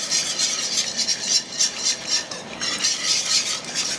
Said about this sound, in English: Stir it up more.